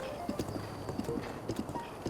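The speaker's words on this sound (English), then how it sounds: "considering this is Ganondorf's horse" Ganondorf's horse galloping in Zelda: Breath of the Wild, a quick rhythmic clip-clop of hooves over soft ambient game noise, with speech faintly underneath.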